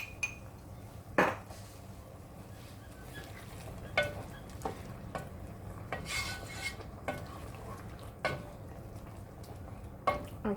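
Stock going into a pan of beef stroganoff at home, with stirring and scattered clinks of a utensil against the pan over a low background hum; no talk.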